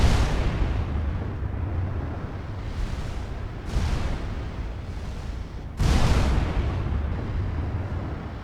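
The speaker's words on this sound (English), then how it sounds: "I finally take a return hit from a 19-inch gun." Naval battle in Ultimate Admiral Dreadnoughts, including 19-inch guns: loud, continuous booming gunfire with heavy rumbling shell impacts, several sharp blasts standing out above a constant roar.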